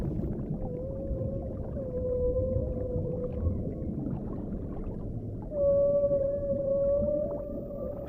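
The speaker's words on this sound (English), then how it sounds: "The humpback song is a powerful form of communication." Humpback whale song heard as long, smooth tonal moans that hold and bend in pitch, fairly faint and distant, with steady underwater hiss and rumble around them.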